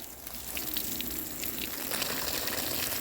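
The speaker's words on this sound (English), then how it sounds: "And then let's get some water over here." Water pours steadily into a potted plant's soil during transplanting, a continuous close splashing gush that runs the whole stretch without talk.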